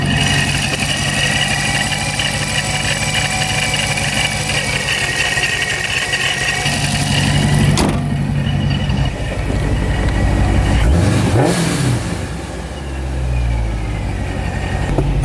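A warmed-up, Procharger-supercharged Dodge Charger Scat Pack idles loudly and steadily close by, with a grindy blower whine, then a quick rev rises and falls back toward idle near the end.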